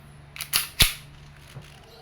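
An Umarex Beretta M9A3 airgun pistol fires several sharp, close, snapping pops in quick succession, then one fainter click after a short pause.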